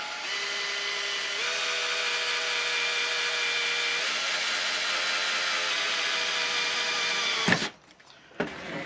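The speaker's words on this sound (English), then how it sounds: "drill your hole." A power drill whines steadily at close range, boring vertically into a kayak seat, its pitch stepping up slightly as it bores, then cuts off with a couple of clunks.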